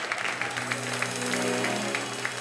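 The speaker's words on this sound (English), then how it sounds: "Let's give God a hand clap of praise right there" Congregation clapping hands in praise during a church sermon, a steady patter of claps over sustained organ-like tones, moderately loud and continuous throughout.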